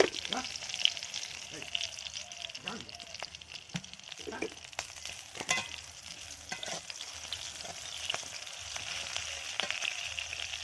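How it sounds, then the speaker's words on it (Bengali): White cooking oil heating in a wok for a pabda fish recipe, giving a soft continuous sizzle with frequent scraping and clinking of a spoon stirring against the pan. "আর অল্প একটু সাদা তেল আবার দিয়ে দিলাম কড়াইয়ের মধ্যে।"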